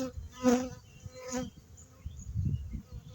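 Honey bees buzz steadily in a hive in spring, a dense droning hum with swelling louder bursts, close and continuous with no voices.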